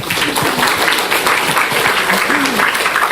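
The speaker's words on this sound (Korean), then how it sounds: "박수 한번 쳐주세요" Loud, dense clapping from a church youth group audience fills the room, with voices chattering underneath throughout.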